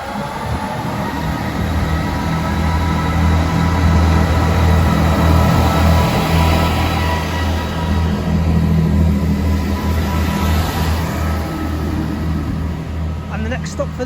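A Class 158 diesel multiple unit pulls away from Wrexham General station, a loud, steady low engine rumble and rail noise holding for the whole stretch, with a faint rise near the end.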